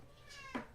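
Cat giving a single short, faint meow indoors, brief and quiet, over a soft background hum.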